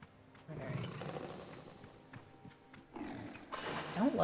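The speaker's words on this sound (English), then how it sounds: "Don't like that door is making like lion sounds when it opens and closes." In the Sable video game, a door opening and closing lets out deep, lion-like roars: a rumbling growl early on, then a louder, rising roar near the end, with some faint background sound.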